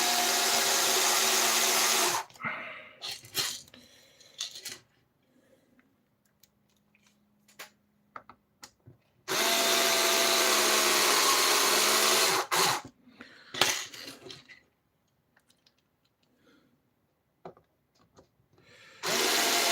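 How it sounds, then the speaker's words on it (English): A power drill drives bolts in two loud, steady bursts of whirring, separated by quieter clicks and handling noises, with no talk. "I'm going to use my drill because I want to do it quickly."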